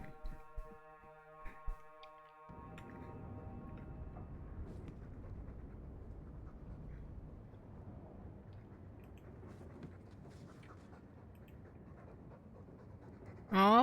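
A dog pants steadily in the fantasy role-playing game Dragon Age II, a soft, continuous rhythmic breathing that runs quietly for many seconds after a few brief clicks.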